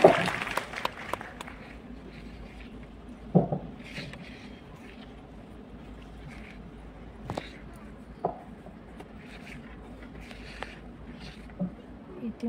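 Audience applause at a gathering honoring a meditation teacher, heard as scattered, fairly faint clapping with a few louder claps, while people murmur and talk in the background.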